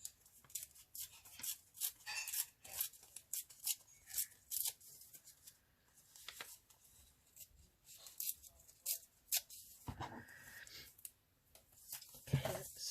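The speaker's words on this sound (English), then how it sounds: "I'm going to be a bit ruthless on that. Let's tear down" Paper being torn by hand for a collage, short ripping and crinkling bursts scattered across the clip, fairly quiet and close, with soft handling rustles in between.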